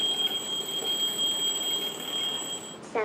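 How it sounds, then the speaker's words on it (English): Alarm clock sound played by a memory-stimulating robot for Alzheimer's patients in Singapore: a steady, shrill electronic tone that rings on without a break for about three seconds, then cuts off abruptly. "Sounds like an alarm clock."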